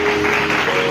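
Church congregation applauding during worship, a dense steady wash of clapping filling the room, with faint voices mixed underneath.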